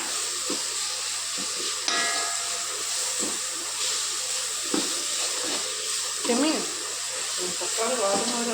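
Chopped tomato is stirred in a hot pan for prawn biryani, producing a hissing, steamy sizzle with occasional scrapes and clinks while a voice talks over it.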